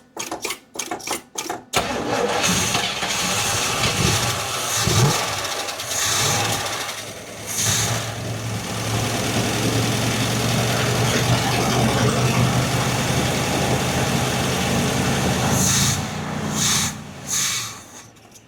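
A 1967 Buick Riviera, parked for over twenty years, cranks over and starts on old gas, then runs at a steady, loud idle for most of the time before cutting off near the end.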